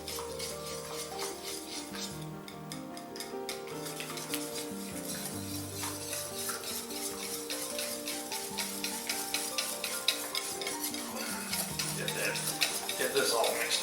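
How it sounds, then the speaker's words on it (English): Eggs being beaten with a broccoli side dish mixture, a rapid repeated clicking of utensil against bowl running throughout, close and steady, with kitchen clatter and a voice talking now and then. "Get those eggs beaten."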